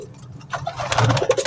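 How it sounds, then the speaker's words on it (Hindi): A golden pigeon coos nearby in soft, throaty rolling notes, starting halfway through and repeating, with fluttery rustling around it, at a pigeon market in Lahore. "ये देखे गोल्डन कबूतर है"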